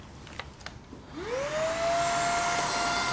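A Redroad V17 cordless handheld vacuum cleaner switches on after a second of near-quiet, its motor whine rising quickly and then holding a steady, loud, close hum with broadband airflow hiss.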